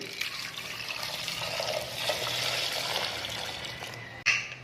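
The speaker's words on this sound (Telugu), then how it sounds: "నీళ్ళు వేసుకోండి" A continuous stream of water runs and splashes into a pot for several seconds, close by, ending with a short knock.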